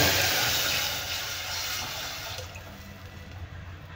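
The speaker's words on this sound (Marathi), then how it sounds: "आता आपण जिरे तडतडल्याच्या नंतर याच्यात पाणी घालूया." Water poured into a pot of oil and crackled cumin for jeera rice, a loud continuous gush that slowly eases, close and with no talking.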